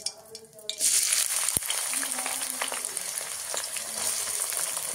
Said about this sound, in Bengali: তারপরে আমরা কুচনো পেঁয়াজগুলো দিয়ে দেবো।